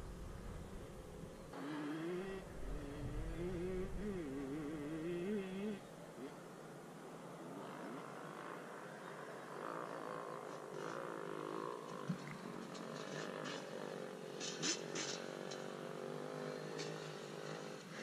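A dirt bike heads down a steep hill at Carnegie SVRA. Its engine drones and wavers in pitch under rushing wind and trail noise, carrying steadily through the whole stretch.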